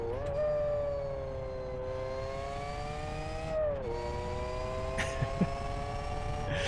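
A car engine in the Live For Speed racing game drones steadily with layered harmonics, its pitch sagging and rising through gear and throttle changes, with a brief burst of higher noise near the end and no one talking.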